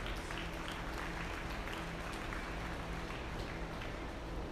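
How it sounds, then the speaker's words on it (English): Spectators at an open supreme dairy cattle show applaud the winners, a faint, distant, even patter of clapping under a steady low hum of the hall. "So let's give them all a big round of applause."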